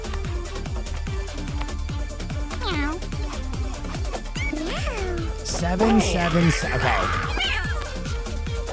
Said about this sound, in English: Why are the cats that are coming up to me randomly better than the ones that we have in-house?